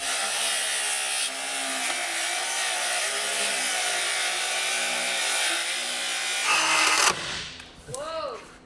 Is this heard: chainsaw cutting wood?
yes